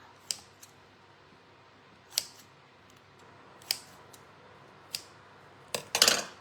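Scissors snip off the bottom of a piece of material during a terracotta pot makeover: about six sharp, separate cuts a second or so apart over a quiet background, the last ones quicker and louder.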